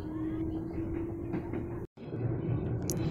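A KRL commuter train pulls out of Rawabuntu station, a steady rumbling hum with a brief tonal whine, cut by a short drop-out before the rolling noise resumes.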